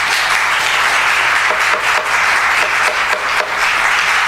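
Steady audience applause fills a city council meeting room during public comment, a dense wash of many hands clapping at even loudness with no voices over it.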